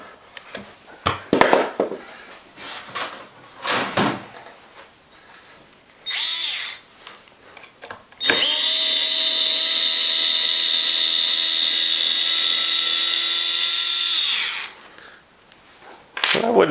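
An electric power screwdriver drives screws into guitar wood. Short whirring bursts at the start lead to a loud, sustained high-pitched whine lasting about six seconds, close by, with brief handling noises in between.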